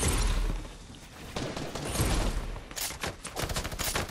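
Dense video game gunfire rattles almost without pause in a duos match, bursts of automatic shots and sharp cracks stacked over one another, loud and close.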